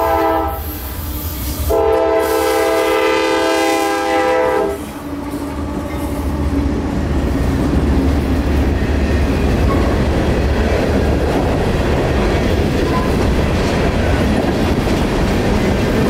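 A long freight train made of two phosphate trains combined passes close by, its horn sounding loudly at first and then giving way to a sustained roar of rolling wagons and clattering wheels.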